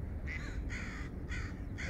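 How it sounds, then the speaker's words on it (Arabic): A crow caws outdoors at a Vancouver park where ducks and small birds are being fed, giving three or four hoarse calls in a steady rhythm over a constant low rumble of wind or traffic. "الغراب والبطة جاية تأكل"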